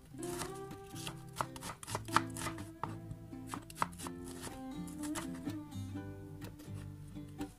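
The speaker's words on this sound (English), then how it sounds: "a medium size of white onions, and I'm going to cut it into slice" A knife slices a medium white onion on a board with crisp, fairly regular cuts, while steady melodic music plays throughout.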